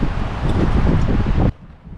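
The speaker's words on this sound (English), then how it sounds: "It's a windy one today." Strong wind buffeting a microphone outdoors along a coastal highway, a loud steady roar of gusts that cuts off abruptly after about a second and a half, leaving quieter background.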